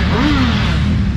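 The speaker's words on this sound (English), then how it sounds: "getting these engines hot and giving some good revs" A short burst of a 2022 Suzuki Hayabusa engine through an aftermarket exhaust, a low rumbling note with a quick rev that rises and settles, loud and close.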